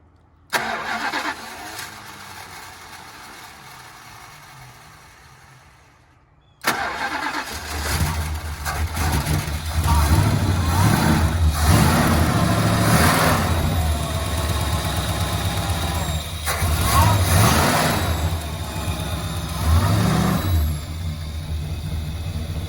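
A 1969 Dodge Polara engine cranks and catches after a quiet start, then settles into a loud, steady rumbling idle with occasional revs.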